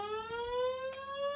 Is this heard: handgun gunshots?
no